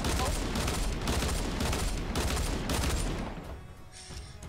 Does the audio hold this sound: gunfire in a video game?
yes